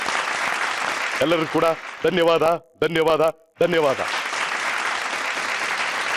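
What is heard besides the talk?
loud applause from studio audience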